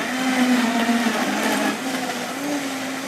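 A countertop blender at a Costco demonstration grinds food loudly and steadily, its motor pitch dipping and recovering as the load bogs it down and it compensates, with no voices.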